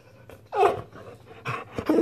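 A pitbull whines and whimpers close by, begging for taquitos, with a rising whimper followed by softer and then renewed pleading cries.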